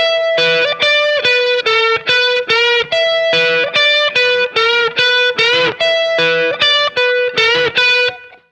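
An electric guitar with heavy distortion plays a minor pentatonic phrase with a bend three times in a row, slowly and loudly, with a sustained ringing tone.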